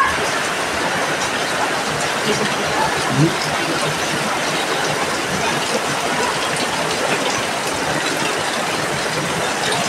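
Heavy rain pours steadily in Taysan, Batangas, a dense continuous hiss filling the whole stretch at an even, loud level with no letup.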